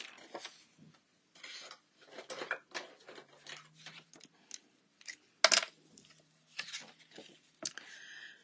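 Scissors snip through cardstock while trimming around a stamped image, with irregular bursts of crisp cutting and rustling, close and fairly quiet, broken by short pauses.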